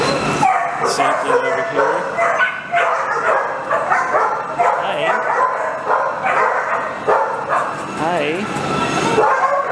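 Many dogs bark, yip and whimper together in kennels, a steady near chorus of overlapping yelps, with a scared shepherd among them and people talking briefly over the din.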